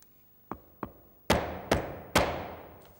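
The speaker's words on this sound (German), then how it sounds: "Die Elemente der ersten Reihe werden stirnseitig mit Hammer und Schlagklotz" A hammer striking a tapping block to knock the first row of flooring panels together end-on, close up with no talk: two lighter knocks, then three louder, sharper blows that ring briefly.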